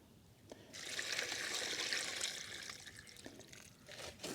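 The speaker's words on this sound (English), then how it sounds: "we need to fill our pond with water" Water pours steadily from a bucket into a small garden pond, a close, continuous splashing gush with trickling and a few drips at the edges, heard alone without talk.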